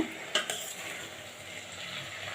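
Soft scraping and stirring of spinach in a pot, with a faint simmering hiss and a couple of brief utensil knocks near the start.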